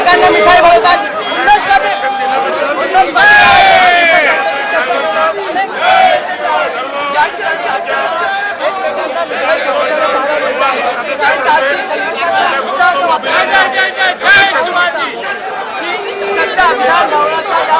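Festive crowd of BJP legislators in saffron turbans celebrating the Maratha reservation announcement, a dense, loud and continuous hubbub of many voices chattering and calling out at once.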